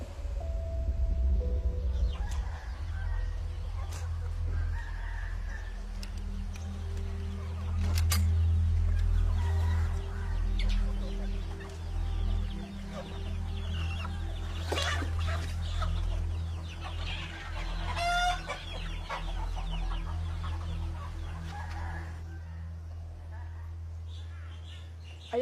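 Chickens cluck around a farmyard, with a rooster among the fowl, under steady low background noise while people talk over the birds.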